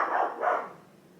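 A single house dog, set off by a cat prowling near the house, gives two quick close barks that run together, heard alone with no talking.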